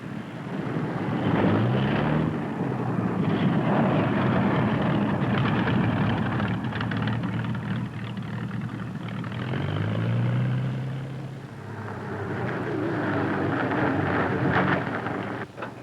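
Light airplane on landing approach, coming in fast and a bit high, its steady propeller and engine drone rising and falling against wind noise, fairly loud and close throughout with no talk.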